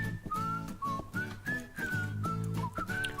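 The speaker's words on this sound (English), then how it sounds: "I can't deal with the whistling" A bright melodic whistling line carries the background music of the roguelike dungeon game Dungeon Crawl Stone Soup, sliding between sustained notes over a bouncy rhythmic accompaniment, steady and unbroken with no talk.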